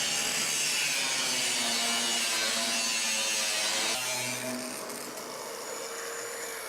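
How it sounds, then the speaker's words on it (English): A grinder works steadily over a wooden piece for several seconds. It makes a dense, continuous abrasive rush that eases slightly toward the end, with no voices. "You're gonna hold the grinder almost tilted into the body of the piece."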